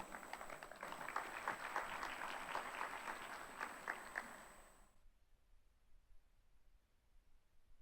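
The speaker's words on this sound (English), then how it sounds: "can we please give our panelists, our theme setter and our moderator a round of applause" Audience applause for conference panelists, a theme setter and a moderator at a financial inclusion policy forum: dense, steady clapping for about five seconds, then it stops abruptly and only faint room noise remains.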